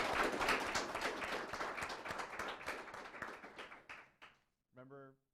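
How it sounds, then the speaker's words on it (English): Moderately loud audience applause for panelists at a privacy and security event holds steady for about four seconds, then fades out; a brief voice follows after a short pause. "Can we get a round of applause for these folks?"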